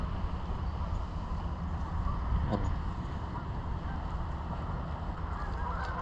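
Wild geese honk on the shore of Lake Ontario after a snowstorm, brief calls rising faintly over a steady wash of wind or water, with ducks nearby.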